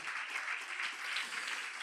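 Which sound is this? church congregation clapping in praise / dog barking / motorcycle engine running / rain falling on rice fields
church congregation clapping in praise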